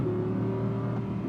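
An Audi R8 GT's engine drones steadily near at hand through a quick upshift, the tone holding smooth with only a slight dip as the gear changes.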